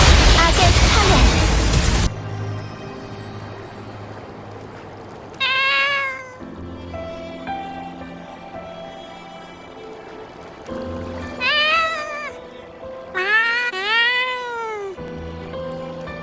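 A cat meows a few separate times in the video game Wuthering Waves, drawn-out cries spaced over a quiet in-game ambience after a brief loud burst at the start.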